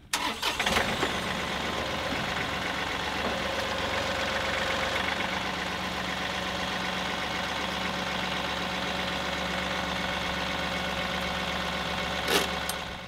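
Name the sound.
tractor engine running as it pulls forward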